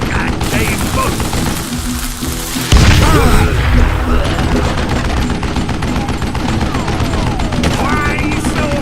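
Continuous loud gunfire and booming shots in the Western shooter Call of Juarez Gunslinger, dense overlapping blasts throughout with a heavier hit midway and a voice talking over the din.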